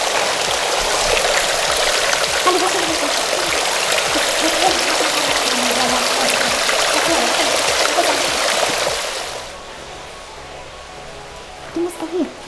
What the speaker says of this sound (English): Running water from the mountain.